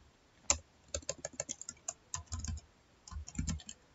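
Keys clatter on a computer keyboard in quick irregular bursts, close and clear, while a search term is typed into a browser, with short pauses between runs of keystrokes and no talking.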